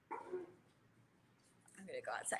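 Rescue dogs bark and yip in short bursts, close by, with a couple of quick barks at the start and a busier cluster at the end, mixed with people talking.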